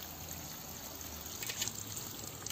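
Spring water trickles out from between stones at a natural spring, a soft, steady, faint dribble with no voices.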